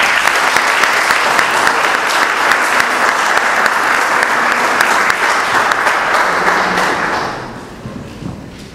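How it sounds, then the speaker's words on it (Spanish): Loud, dense applause from a large indoor audience fills the space steadily, then thins and fades toward the end. "y merece un aplauso grande por haberlo escrito."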